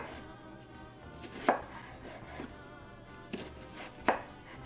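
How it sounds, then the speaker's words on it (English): A knife slices through an onion julienne style on a cutting board, a few distinct, sharp chops spaced apart over a quiet, near background with soft handling sounds between cuts. "That's how you julienne or slice an onion."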